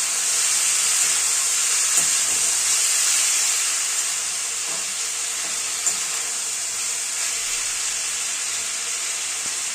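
Marinated ingredients for Jamaican brown stew chicken sizzling in hot frying oil left from browning the meat, a loud, steady hiss of frying that continues throughout with faint stirring.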